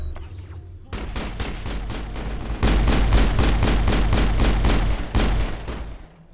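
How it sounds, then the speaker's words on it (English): Rapid volleys of sniper rifle fire in the video game Mass Effect, loud, close sharp reports in a fast steady rhythm, with a heavier burst in the middle and no talk. "It's a damn sniper."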